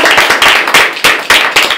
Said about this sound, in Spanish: Un aplauso entonces para nuestro invitado de hoy